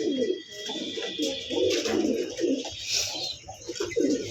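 Pigeons cooing close by in a loft, soft repeated throaty coos overlapping one another steadily.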